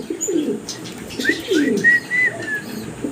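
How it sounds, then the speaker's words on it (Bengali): A pair of Mundian pigeons coo in soft, repeated low phrases at close range, with a few brief higher chirps over light background noise and no talking. "ভিডিও স্ক্রিনে আপনারা এক পেয়ার মুন্ডিয়ান কবুতর দেখতে পারতেছেন"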